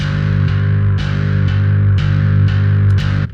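Loki Bass 2 synth bass with vibrato bend intensity at minimum: a sustained low, buzzy note retriggered about twice a second, pitch nearly steady, loud and alone.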